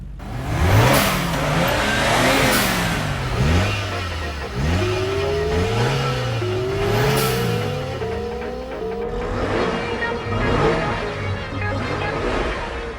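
Race cars in the video game Initial D 4th Stage tear downhill, engines loud and continuous, revving up and dropping back through repeated gear changes for the whole stretch.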